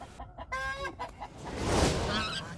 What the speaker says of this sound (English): it was nice to see the Bielefelders hanging out with the rest of our layer chickens